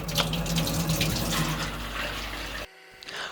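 Tap water runs steadily into a bowl at an outdoor campsite wash station while painted miniature pieces are washed. The close, full gushing stops abruptly near the end, leaving quiet.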